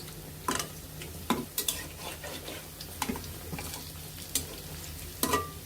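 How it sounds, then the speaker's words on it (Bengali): Large lentil and onion fritters (piyaji) sizzle in hot oil as they are turned one by one, with a soft continuous fry under several sharp clicks and scrapes of the utensil against the pan. "আমরা এখন পেঁয়াজিগুলো আস্তে আস্তে উল্টিয়ে নেব।"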